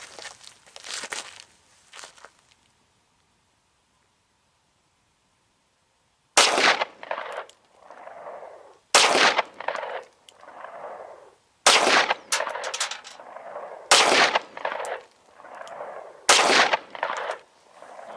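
A 9mm pistol fires 100-grain Team Never Quit frangible hollow-point rounds outdoors: a couple of loud, sharp cracks, a pause, then five evenly spaced close shots, each followed by a brief echoing tail.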